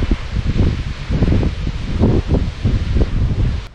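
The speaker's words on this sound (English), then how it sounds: "The wind is a little bit calm at the moment, but it has picked up incredibly strong." Strong gusting wind on a Te Araroa hiking trail, buffeting and roaring close up with rustling, surging and easing in waves throughout, loud and continuous with no voices.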